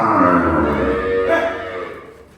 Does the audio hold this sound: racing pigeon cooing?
no